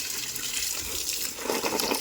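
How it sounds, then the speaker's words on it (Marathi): Water from a garden hose spraying onto sun-wilted plants in a home garden, a steady close hiss and splash that grows louder and brighter near the end. "पाणी मारून घेऊया"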